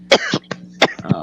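A few sharp coughs, close and loud, in quick bursts with brief pauses between them, no talking.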